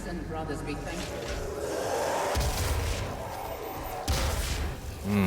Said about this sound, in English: Gauss cannon.